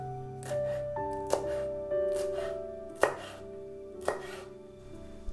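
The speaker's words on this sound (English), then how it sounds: "Cut the cilantro into chunks." A knife chops fresh cilantro into chunks on a cutting board, a handful of crisp, separate knocks spaced about a second apart over soft background music, with no talking.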